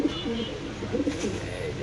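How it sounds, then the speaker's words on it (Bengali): Dove cooing at a Bangladeshi pigeon seller's stall, a brief run of low, soft coos close to the listener with faint background noise. "এখানে আছে ঘুঘু"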